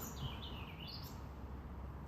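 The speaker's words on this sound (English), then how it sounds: "I've got the birds chirping" Birds chirp at an outdoor campsite beside a coffee pot warming on campfire embers, a thin high call sweeping up and down over steady wind and ambient outdoor noise.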